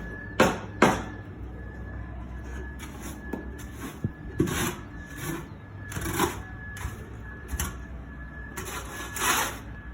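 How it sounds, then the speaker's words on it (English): A shovel scrapes soaked stall bedding off rubber matting in a horse stall, giving repeated short scraping strokes with brief gaps, close by and moderately loud. "she's going to take the shovel and she's going to scrape it"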